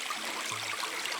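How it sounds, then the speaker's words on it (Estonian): Small springs and streamlets flow through a dim forest, a brief steady wash of trickling water with no voices. "Väikesed allikad ja ojakesed ikka voolavad."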